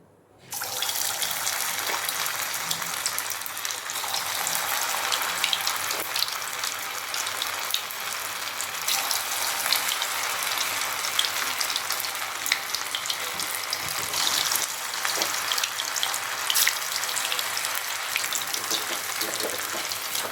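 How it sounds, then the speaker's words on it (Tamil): Prawn balls deep frying in hot oil on medium flame: a loud, dense, continuous bubbling sizzle that starts abruptly and holds steady throughout, close up with no talk. "இப்போ எண்ணெய் நல்லா ஹீட் ஆகிடுச்சு. இதில் உருண்டையை சேர்த்துக்கலாம்."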